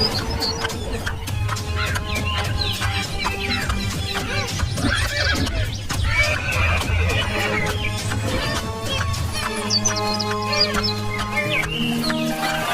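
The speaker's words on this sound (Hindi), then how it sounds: "राजा अपने घोड़े पर सवार होता है और जादुई तालाब की तरफ रवाना हो जाता है।" A cartoon horse whinnies loudly as a king rides away, mixed with clucking fowl, clip-clop hooves and background music in a steady, busy soundscape.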